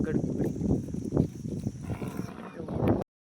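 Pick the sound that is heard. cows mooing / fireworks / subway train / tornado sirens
cows mooing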